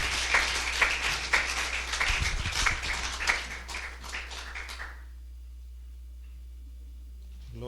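A church congregation at a worship service claps for about five seconds, a dense, fairly close burst of many hands that stops abruptly and leaves near silence.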